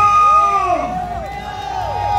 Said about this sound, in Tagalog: Palakpakan may kasama sigawan.